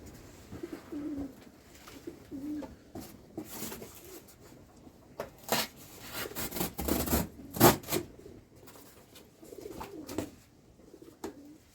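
Soft wood pigeon coos come and go amid rustling and scraping nearby during nest cleaning, with a few louder bursts of movement in the middle.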